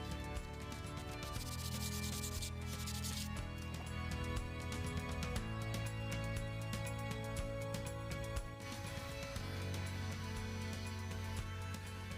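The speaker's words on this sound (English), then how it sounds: "I decided to hand sand the edges" Steady rubbing rasp of hand sanding along the edges of pallet wood, continuous and close, with a faint tonal layer underneath and no talk.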